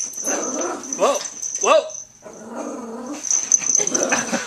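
A small chihuahua snarls, growls and lets out sharp yips and barks in short bursts at close range, with a man's startled exclamation and other voices mixed in.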